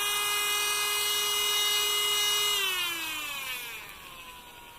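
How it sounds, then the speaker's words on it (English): A cordless Dremel Micro rotary tool whines at high pitch while filing a dog's nails, steady at first, then winding down in pitch and fading as it slows, close and unaccompanied by talk. "You can also use a Dremel to file down the nails."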